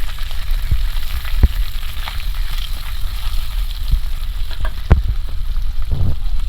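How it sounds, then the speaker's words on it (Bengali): Garlic, green chillies and onion fry in hot oil, a steady close sizzle with occasional stirring clatters and pops. "কয়েকটা কাঁচা লঙ্কা চেরা পেঁয়াজ করতে ভালো করে ভেজে নেব"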